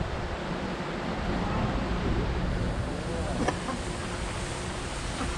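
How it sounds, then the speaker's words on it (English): Waterfalls along the San Antonio River Walk give off a steady, dense rushing roar of falling water, with a faint brief tap partway through. "Got some nice waterfalls right here on the right"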